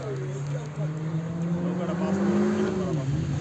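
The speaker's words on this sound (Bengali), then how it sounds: "কই নৌকা আসতেছে? হ্যাঁ আসতেছে ইনশাল্লাহ।" A speedboat's motor drones on open water, rising and then easing as the boat approaches and passes close by.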